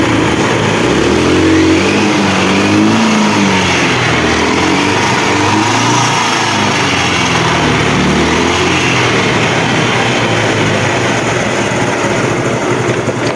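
Small engine running steadily after starting, a loud continuous buzzing drone with a slightly wavering pitch early on, close by and with no voices.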